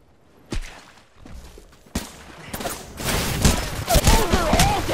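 Gunfire in the battle-royale shooter Apex Legends, a few sharp separate shots at first, then denser bursts of rapid firing with thuds and whips, growing louder toward the end, with some speech mixed in.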